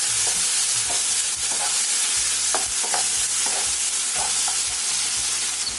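Chopped tomatoes sauté in a hot pan for an egg bullseye curry, with a steady loud sizzle throughout and repeated scraping stirs of a spatula against the pan, with no voices.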